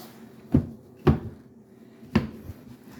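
An old kitchen drawer beside a broken oven is yanked out, giving three sharp wooden knocks and a softer thud as it hits its stop, close and with no talk.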